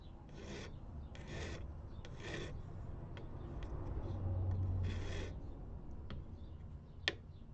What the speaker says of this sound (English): then I'll file off the bottom and top side